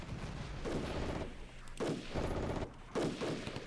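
Mechanized infantry in the Cold War strategy game Armored Brigade fire in dense bursts, sustained rattling volleys broken by short pauses, heard from a distance and fairly faint.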